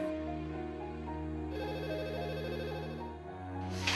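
A telephone rings steadily at home with a sustained, tonal electronic ring pattern, moderately loud, and a slight shift in tone partway through.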